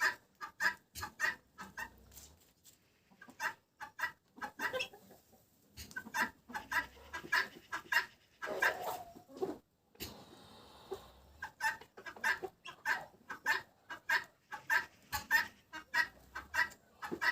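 Busy turkey chatter, many birds clucking and calling in rapid, repeated bursts close by during mating season, with brief pauses, no talking.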